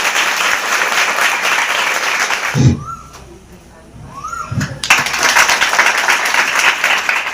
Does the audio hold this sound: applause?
yes